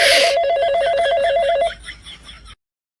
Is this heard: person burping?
no